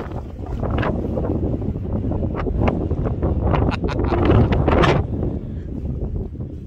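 Strong gusts buffet a microphone outdoors on a Scottish motorbike camping trip, loud rumbling bursts that swell and fade over several seconds with no speech.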